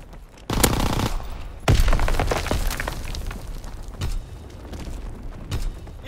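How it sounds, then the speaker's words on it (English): Artillery barrage in a Call of Duty: WWII battle, loud heavy blasts and dense rolling gunfire with crackling impacts, a sustained chaotic roar punctuated by a few sharper booms. "Firing division artillery."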